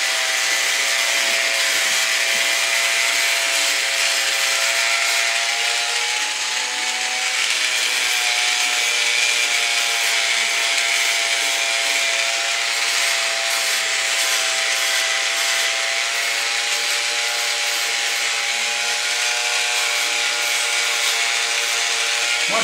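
An electric shaver buzzes steadily and close up while shaving off a long-grown mustache, a continuous motor hum with faint rubbing across the lip.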